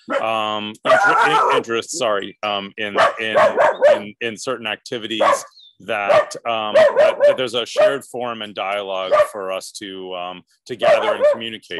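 A dog barks and whimpers in the background during a video call about renewable energy projects, its yips and barks scattered under a person's continuous, close speech.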